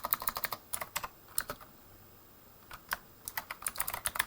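PowerShell code being typed on a computer keyboard, with quick close-up clusters of key clicks, a pause of about a second in the middle, then a renewed run of fast keystrokes.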